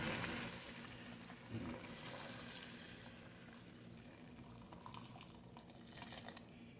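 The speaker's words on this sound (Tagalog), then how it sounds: "Lagyan na natin guys ng kumukulong tubig." Hot boiling water pours into a pot of sinigang na bangus with vegetables, a steady liquid rush and splash that starts loud and settles into a continuous, slightly fainter pouring hiss.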